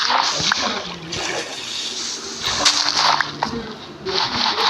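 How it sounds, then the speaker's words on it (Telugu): Water falls and splashes in the Minecraft video game while a player character climbs a mountain, giving a rushing, splashy flow that swells and eases over several seconds. "కొండపై ఎక్కుతుంటానికి అబ్బా వాటర్ పడుతుంది."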